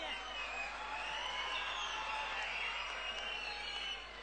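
Audience applause and cheering at a patriotic speech, a dense sustained wash of clapping from a large crowd, steady and fairly loud for several seconds before tapering at the end.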